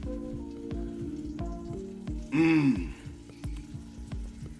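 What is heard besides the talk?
kielbasa sausage sizzling in a pan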